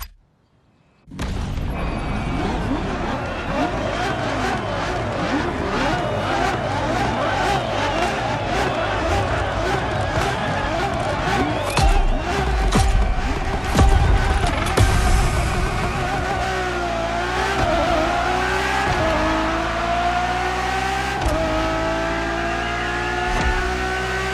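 A Ferrari Enzo supercar in The Crew Motorfest racing game, its engine roaring steadily and rising through revs with gear shifts and tire noise, loud and continuous with no voices.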